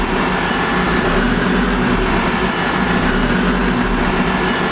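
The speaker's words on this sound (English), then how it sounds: "It idles a little weird until it warms up." A Toyota MR2 with a swapped-in Honda K24 engine idles unevenly, a steady low rumble with a loose, wavering pulse running close and continuous, with no voices.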